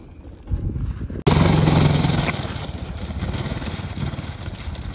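A Suzuki DR dirt motorcycle on a river trip: after a brief cut, its engine runs steadily close by with a rough, continuous drone and slight shifts in pitch.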